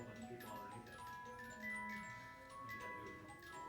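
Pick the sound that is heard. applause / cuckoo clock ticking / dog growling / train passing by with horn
cuckoo clock ticking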